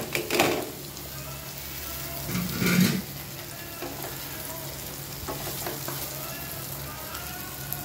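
Brinjal fry made with Vellore eggplant sizzles and crackles in a pan on a stovetop, with a couple of louder stirring bursts early on over a steady, close frying hiss.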